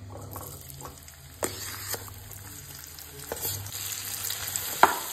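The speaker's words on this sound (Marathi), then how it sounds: "तुपान न्ही ही कणगां आमी आतां मातशी परतून घेवया" Mashed sweet potato sautés in ghee with a soft continuous sizzle, punctuated by occasional scraping stirs and a few sharper clicks of a utensil against the pan, close and moderately quiet.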